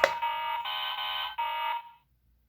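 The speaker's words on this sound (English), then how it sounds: "That's a beeping sound." A Fisher-Price Lil Movers toy fire truck from 2005 gives off a steady electronic beeping tone in three sustained bursts, close and fairly quiet with no talking, ending after about two seconds.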